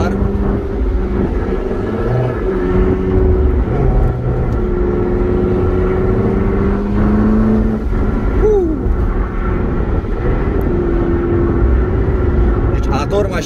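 A McLaren MP4-12C Spider cruises along with a steady engine drone and road noise, loud and continuous throughout, with a brief rise in pitch midway and no voices over it.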